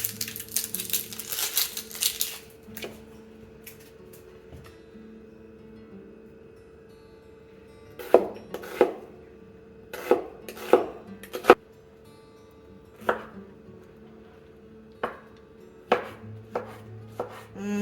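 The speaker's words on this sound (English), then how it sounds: "I put down a little plastic one. When I'm cutting onions." Onions being chopped with a knife on a small plastic cutting board, a scattered series of sharp, close thuds and knocks with quiet pauses between bursts.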